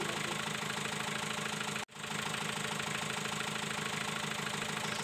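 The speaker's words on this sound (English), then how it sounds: "the car's engine is idling between 705 to 710 RPM" A diesel engine in an HM Ambassador car idles at about 705 to 710 RPM with a steady, even chugging rumble, broken by one very brief dropout, then continuing unchanged.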